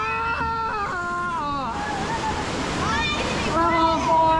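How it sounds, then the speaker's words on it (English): Rushing water of river rapids on a water-park ride roars beneath excited voices shouting and calling out over the churn. "Here come the rapids."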